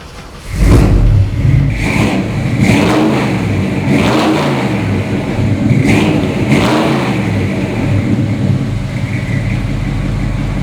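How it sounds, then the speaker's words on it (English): A 1972 Ford Ranger XLT pickup with a big-block 428 V8 cranks and fires, then settles into a deep rumbling idle broken by several loud throttle blips. "what you're hearing is the big block 428 and what does it sound like"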